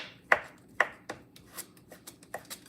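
A knife finely dices a shiitake mushroom on a cutting board in a run of sharp, uneven taps. The first strikes are louder and later ones softer, close up, with no talking.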